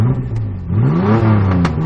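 A 1992 Ford Ranger's engine revs up twice from idle, rising and falling in a close, steady mid-pitched growl, with no talking.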